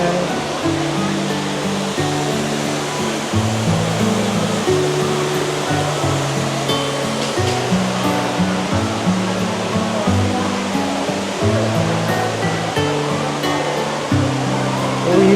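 The indoor waterfall in the Cloud Forest conservatory at Gardens by the Bay, Singapore, roars as a steady, loud rush of falling water throughout, with music playing softly underneath.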